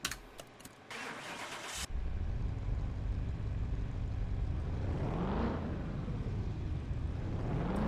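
A 505-horsepower Cobra car engine cranks with a short starter whir, catches, and settles into a low, steady rumbling idle with a couple of gentle revs, fairly quiet overall.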